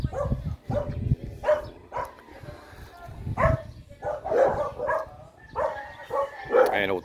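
A dog barks and yips repeatedly near a rural home beside rice fields, sharp irregular barks mixed with whining, while a person talks over it.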